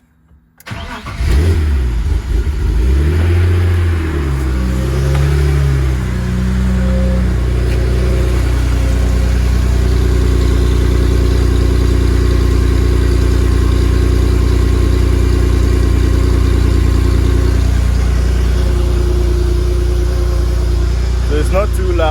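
A BMW E30 with a swapped M54 engine cold starts: a short crank, the engine catching into a steady, fairly loud, even idle that holds for about twenty seconds with a slight wobble. A voice talks briefly at the start.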